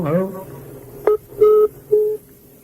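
A telephone during a radio call-in broadcast gives out three short tones in quick succession after a brief bit of speech, each beep clear and close.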